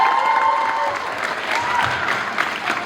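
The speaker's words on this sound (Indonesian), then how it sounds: "Tepuk tangan dulu dong." Studio audience applause at an Indonesian idol singing show, a steady wash of clapping with light cheering from the crowd lasting a few seconds, fairly loud with a faint tone underneath.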